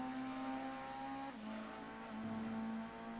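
A Toyota Altezza race car in Gran Turismo 2 accelerates hard off the line, its loud, steady engine tone holding high and then dropping briefly at a gear change before climbing again, with no talk over it.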